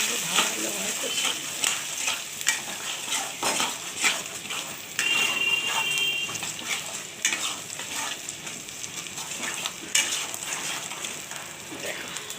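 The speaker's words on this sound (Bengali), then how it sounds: "এবার তেলের সঙ্গে ভালোভাবে কষে" Spice masala sautés in oil for a chicken dish, a constant sizzle and crackle broken by repeated scraping and stirring of a utensil against the pan, close up, with some talking in between.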